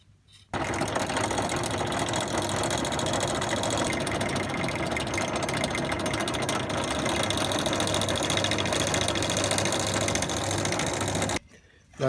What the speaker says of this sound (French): Il ne reste plus maintenant qu'à percer.